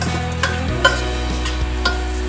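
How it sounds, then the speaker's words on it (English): Dalia roasts in a little oil in a pan for haleem, a steady loud sizzle with soft scraping stir strokes recurring every half second or so, no voices. "Roast this dalia even further for say 5 minutes."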